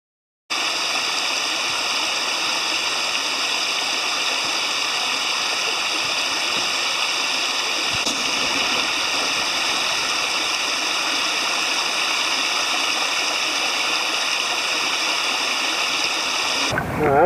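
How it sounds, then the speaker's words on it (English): Shallow, wide river with slow current on the Black River in Wisconsin, flowing as a steady, loud broadband wash throughout, with a constant high-pitched tonal hum running over it and no voices. "the river is wide and very shallow and not a ton of current"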